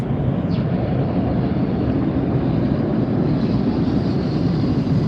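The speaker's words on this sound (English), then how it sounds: "listen to those reverse thrusts" A jet airliner roars in reverse thrust on landing at LAX, a loud, steady, broadband rumble heard close up and unbroken, with wind buffeting the microphone.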